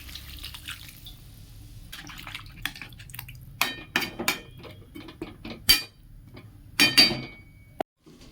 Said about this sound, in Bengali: একটু জল দিয়ে দেবো চারিপাশ থেকে